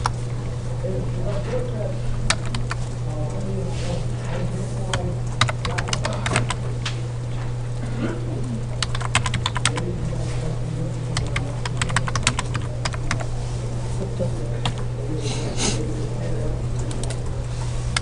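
Keys clattering on a computer keyboard in irregular bursts, close and fairly light, over a steady low electrical hum, with no talking over it.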